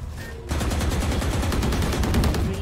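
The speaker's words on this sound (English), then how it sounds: "I shot all of my bullets and it didn't break" Rapid automatic gunfire from the Valorant shooter game, a dense burst of sustained shots starting after a brief quieter moment and continuing loud and steady to the end.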